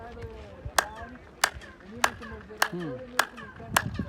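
Six sharp hand claps at a steady pace at the foot of the Chichen Itza pyramid in Mexico, each one answered by a descending chirp-like echo off the stone steps that sounds like a bird call.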